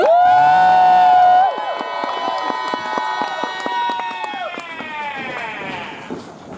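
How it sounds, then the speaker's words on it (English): At a Renaissance faire comedy improv show, an audience cheers and whoops for the actors coming on stage, a loud high voice rising over the crowd before mixed clapping and shouts carry on under it. "Let's all cheer for them because they can't hear me."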